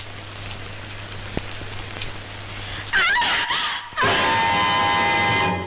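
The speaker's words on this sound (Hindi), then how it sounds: "ये चीख कैसी?" A woman screams in a 1965 Hindi mystery thriller film: a sudden loud, wavering high cry cuts in over a steady rain-like hiss, breaks off briefly, then gives way to a sustained bright tone.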